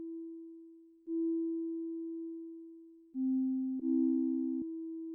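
Behringer JT Mini synthesizer playing held notes in polyphonic mode, a pure sine-like tone that sustains, shifts pitch as a second note is added and released, clean and moderately quiet.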